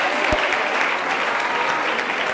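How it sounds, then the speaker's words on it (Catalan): Studio audience applause for an eliminated contestant on a Catalan word quiz show, steady clapping throughout at close range, with no voices over it. "Quedes eliminada, Sara, amb un aplaudiment també per la Sara."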